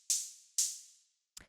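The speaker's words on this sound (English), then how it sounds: "I made this with operators, just kind of like a simple like analog style hi-hat." Two simple analog-style synthesized hi-hat hits, made with Ableton's Operator, sound alone and bright. Each crisp open hiss decays over about half a second, and a short rustling noise burst follows.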